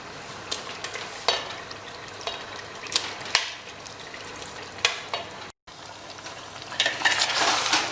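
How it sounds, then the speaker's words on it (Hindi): Chicken pieces sizzle and fry in masala in a pan while being stirred, with recurring scraping stir strokes and spoon clinks over a steady, fairly quiet hiss, swelling louder near the end. "अब इस चिकन को इस मसाले में"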